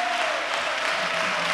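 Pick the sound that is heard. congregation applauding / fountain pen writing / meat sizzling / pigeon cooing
congregation applauding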